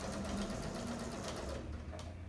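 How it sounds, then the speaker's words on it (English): A sewing machine stitches along the curved edge of a fabric baby bib, making a close, steady mechanical whir that carries on continuously before easing slightly at the end. "I'm just following that hole and the curve, making sure that I'm sewing on the edge of the fabric."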